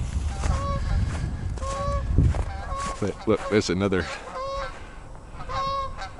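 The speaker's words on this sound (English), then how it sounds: "another goose couple passing now" A pair of geese honk repeatedly as they fly past outdoors, the calls fairly near and recurring in short bursts, with a person talking over part of it.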